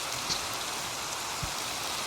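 Steady rain falls in the video game Minecraft, a dense even hiss that continues without break across the short stretch, with a couple of faint soft thumps.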